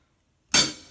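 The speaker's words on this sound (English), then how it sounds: "you got your hi-hat." A single bright hi-hat cymbal strike on a drum kit, loud and close, with a shimmering wash that fades quickly, after a moment of silence.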